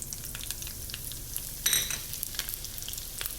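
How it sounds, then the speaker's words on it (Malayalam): Fenugreek seeds and thinly sliced small shallots fry in hot oil, crackling and sizzling up close, with a brief louder burst of spattering and the odd clink of a utensil against the pan. "ഈ ഉള്ളി ഒന്ന് മൂത്ത് വരട്ടെ"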